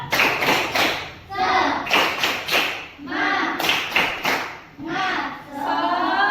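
Schoolchildren in an elementary classroom clap out a rhythmic cheer in repeated bursts of sharp claps, with their voices chanting along loudly and close by.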